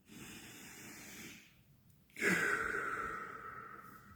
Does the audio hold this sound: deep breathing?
yes